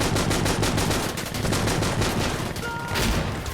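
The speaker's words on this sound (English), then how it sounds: "just mag dumping that SVD" An SVD rifle is emptied in rapid fire in a competitive video game match, a dense, loud stream of evenly spaced shots that continues without a break, with faint voices underneath.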